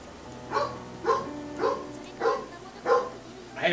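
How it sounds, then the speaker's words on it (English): A dog barks in a steady series of five or six evenly spaced woofs, moderately loud against a low background hum. "I have no idea why she started barking."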